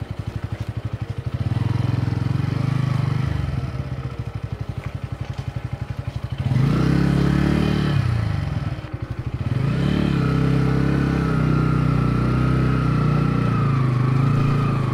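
A Bajaj Pulsar N150 motorcycle engine runs steadily and close by, its low rumble shifting in pitch as it labors at low rpm in third gear and revs while riding.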